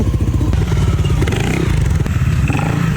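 A motorcycle left unused for two months starts with a click and settles into a loud, close, steady engine rumble with clattering mechanical noise over three seconds.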